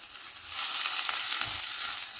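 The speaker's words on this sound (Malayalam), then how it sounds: "എല്ലാം കൂടി ഒന്ന് സോട്ട് ചെയ്ത് കൊടുക്കാം" Green chilies and a large tomato sauté in a hot pan, a steady close sizzle with brief stirring scrapes, no voices over it.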